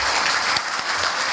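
Audience applause at a development cooperation day ceremony, honoring overseas volunteer award winners; steady dense clapping fills the short moment at even loudness with no talking.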